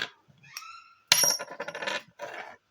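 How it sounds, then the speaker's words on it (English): A silver coin dropped onto a hard surface, giving a sharp clink and a bright ringing tone that fades, with a few fainter clinks and rattles around it, close and alone. "just by the fact that it's not a dud sound, shows that there is silver content in it"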